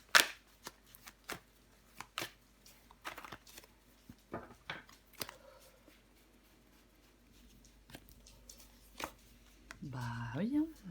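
Tarot cards handled and drawn, a series of quiet, close flicks, taps and slides spaced irregularly, with a voice talking during part of it.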